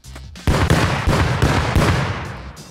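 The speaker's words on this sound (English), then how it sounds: "I'm gonna grenade this" A loud grenade explosion in the video game Rust, breaking into a string of four or five sharp, crackling bursts in quick succession that fade out over about two seconds.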